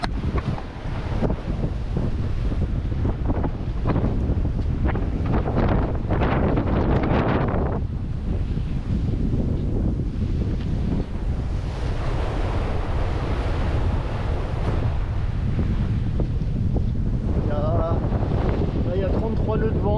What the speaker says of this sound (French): Il y a 33 nœuds de vent